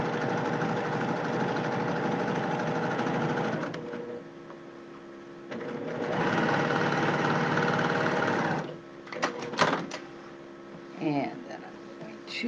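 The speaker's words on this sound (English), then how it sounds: "And then I'm going to stitch, and I pretty much use the foot as my guide along that stitching" A sewing machine runs in two sustained bursts while topstitching a shirt, loud and close, with a pause between them. Brief handling clicks and knocks follow.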